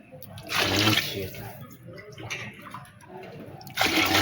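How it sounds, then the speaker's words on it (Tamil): Water is poured glass by glass into a pot for mushroom biryani, heard as three close, splashing pours separated by brief pauses. "தண்ணி ஊற்ற போகிறோம்."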